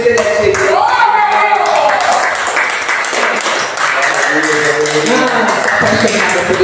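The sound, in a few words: audience applause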